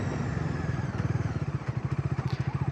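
A Bajaj Dominar 400 motorcycle engine lugging at low speed in fourth gear gives a steady, close, pulsing low thump with an even rhythm and no talk.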